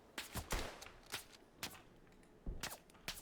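Scattered rifle shots crack in a World War I shooter game set at Tannenberg, sharp distant-sounding reports arriving in irregular clusters, fairly faint overall.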